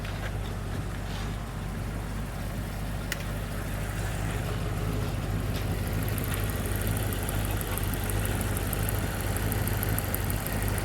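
A 1937 Ford engine with a no-charge fault idles steadily, a continuous low rumble with faint knocking and a thin high whine joining partway through, heard up close without talk.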